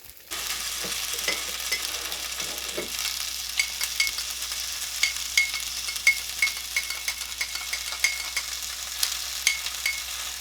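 Lit'l Smokies cocktail sausages sizzle and crackle steadily as they brown in a hot pan, with sharp pops and spatters standing out over the continuous frying hiss, close and fairly loud, with no talking.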